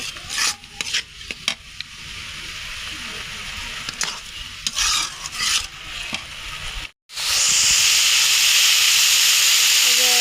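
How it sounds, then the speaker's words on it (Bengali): Spice paste with chili and water is stirred in a pan for a teasel gourd curry: scraping stirs over a soft sizzle, then a brief pause before a loud, steady hiss of frying. "এখন আমি এই মশলাটা ভালো করে একটু কষিয়ে নেব"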